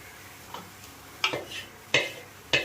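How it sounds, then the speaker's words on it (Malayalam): A spoon scrapes and knocks against a pan while mashed potato is stirred into cutlet mixture, giving about five sharp, close clicks and scrapes spaced unevenly over a quiet background. "അതിലേക്ക് നമുക്ക് ഉരുളക്കിഴങ്ങും കൂടിയിട്ട് ഇളക്കാം."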